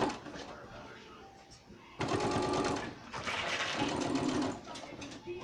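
Sewing machine stitching through folded fabric and batting for a microwave bowl cozy, running in steady loud bursts that pause briefly as the presser foot is lifted and direction changes, with a voice talking over it.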